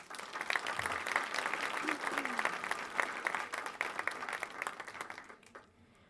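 An audience at a national psychosocial congress applauds in a sustained wash of clapping that holds steady for several seconds, then thins and fades away near the end.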